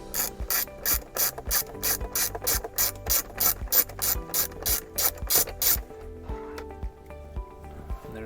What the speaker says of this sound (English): there's a 7mm hex head bolt that we're going to loosen up and fully remove